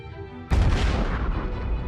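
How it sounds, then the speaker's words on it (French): A sudden deep boom erupts as an explosion effect for a supernova star death, then rolls on as a long, loud, dense rumble with no talk over it. "Elles meurent dans des explosions parmi les plus violentes qui aient secoué l'univers."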